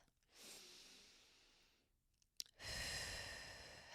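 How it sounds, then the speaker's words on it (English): A person takes a deep breath: a long airy inhale, a short pause with a small click, then a strong, full exhale up close in a quiet space. "And you're going to take a deep breath."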